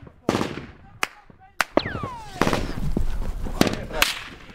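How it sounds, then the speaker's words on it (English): Rapid gunfire in a firefight between Estonian soldiers and Taliban fighters on a road: sharp, loud cracks and bursts come close together, with rising whistles and echoes between shots. "begin to fire at us. The Estonian soldiers are quick to react and begin to return fire."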